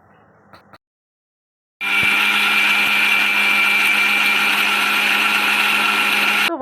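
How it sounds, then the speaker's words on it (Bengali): A kitchen mixer grinder whirs loudly and steadily for about five seconds, blending cucumber, chilli and potato into a paste, after a brief quiet stretch at the start. "এবার মিক্সিতে এটা সব কিছু দিয়ে পেস্টটা করে নিই"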